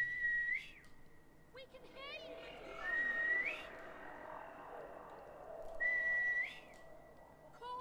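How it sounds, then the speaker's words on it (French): Whistling in a fish-shark video game, three short rising whistle bursts separated by pauses, with quieter game sounds and faint voice in between. "Alors c'est le moment de siffler"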